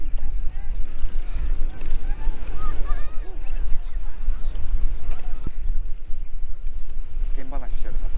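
Geese or ducks honk and chatter beside the Edo River in Tokyo, overlapping calls amid steady outdoor rumble and wind, with people talking nearby.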